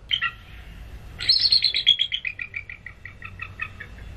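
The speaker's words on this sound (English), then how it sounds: "All right, the bald eagle." A recording of a bald eagle call plays: a brief high chirp, then a longer series of shrill piping notes that slow and fade, heard alone in a quiet room.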